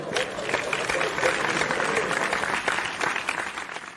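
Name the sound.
audience applause welcoming a speaker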